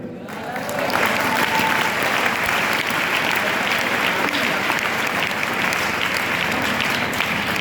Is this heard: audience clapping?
yes